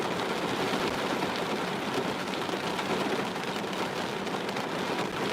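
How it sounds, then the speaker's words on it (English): Heavy rain pouring hard at night, a dense, loud, unbroken hiss of drops striking surfaces close by, steady throughout with no talk. "It's raining really hard."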